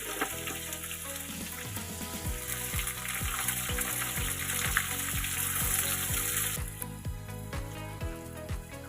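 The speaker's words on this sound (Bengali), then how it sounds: "আমি 3টে বড় পেঁয়াজ কেটে রেখেছিলাম, সেটা আমি দিয়ে একটু ফ্রাই করে দিচ্ছি" Three large chopped onions frying in a pan for Bengali mutton kosha, a steady close sizzle with rhythmic scraping strokes of a spatula throughout, no talking.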